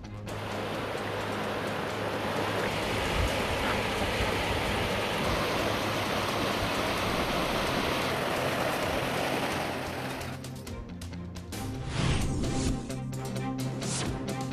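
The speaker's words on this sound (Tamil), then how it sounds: "பெரிய குளத்தில் தொடரும் மழையால் வராக நதியில் வெள்ளப்பெருக்கு" Steady, dense rush of continuous heavy rain with flowing floodwater from the Varaha river swollen by persistent rain near Periyakulam, loud and unbroken, with some clattering sounds toward the end.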